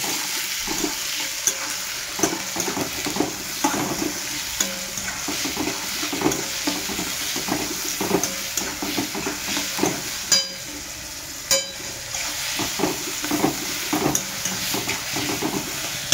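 Tomatoes for pav bhaji fry in a pan and are stirred, with a continuous close sizzle, rhythmic scraping strokes and an occasional clink of the utensil against the pan.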